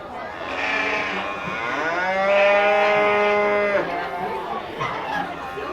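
A goat in a livestock pen at the Bob Evans Farm Festival gives a drawn-out bleating call, loud and close, under crowd chatter and voices nearby.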